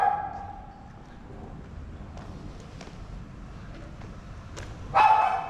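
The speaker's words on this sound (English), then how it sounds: "There's a dog upstairs, I guess." A dog barks upstairs in a back alley of theaters in Jiangmen, Guangdong, a few faint, scattered barks in a quiet street ambience, with one louder burst near the end.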